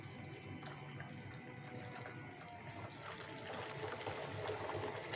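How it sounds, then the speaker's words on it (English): Bayite water pump running with water flowing through an open valve, a steady faint whirring hum and soft rushing water that swell slightly toward the end, with no talking. "The valve is on here to control the flow of water, because if I have it all the way open like it is now"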